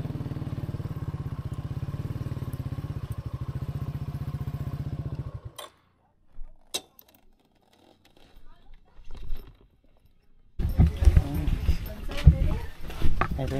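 A motorcycle engine idles with a steady low putter, then cuts off; a few clunks and scrapes follow before people begin talking.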